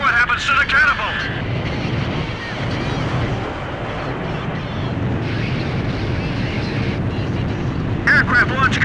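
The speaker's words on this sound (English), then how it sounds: "Aircraft launch confirmed." A fighter jet launches off an aircraft carrier catapult in the video game Ace Combat 5, with a steady roaring engine rush and wind noise building, while a voice talks over it near the start and end.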